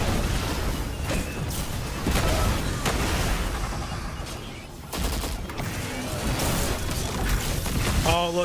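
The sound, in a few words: explosions in the video game Destiny 2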